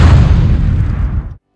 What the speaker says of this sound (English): Until that grill explosion.